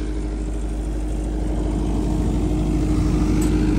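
A diesel generator running on red diesel, with over 3,400 hours of runtime, idles nearby with a steady low engine drone and hum, continuous and alone without speech.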